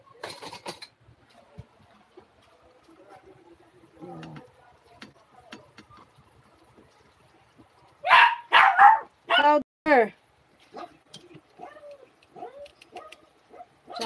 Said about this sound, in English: That's why he's barking